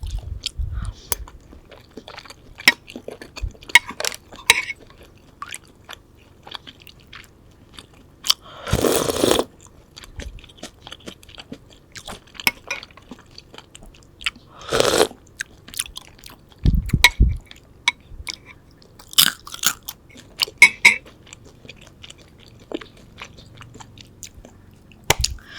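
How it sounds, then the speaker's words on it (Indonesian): Someone bites and chews chicken up close, with crunchy bites and wet chewing scattered irregularly throughout, some louder crunches standing out against quiet gaps. "Aku makan ayamnya."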